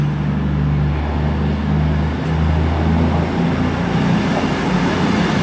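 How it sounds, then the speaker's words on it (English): A British diesel train pulling out of Cheltenham Spa station, a loud, close, steady engine rumble and hum that holds throughout, with slight rises in pitch as it moves off. "Also departing out behind me is the 1140 service towards Manchester Piccadilly."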